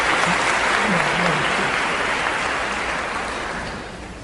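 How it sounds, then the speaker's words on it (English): An audience applauds at a lecture in Washington, a broad, continuous clapping that holds strong and then begins to fade toward the end, with faint voices mixed in. "I don't know why you clap."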